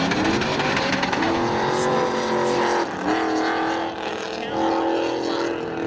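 Drag racing cars at Seekonk Speedway roar down the track in a spectator drags event, a loud continuous engine drone with rising pitch as they accelerate, steady throughout with a brief dip near the middle.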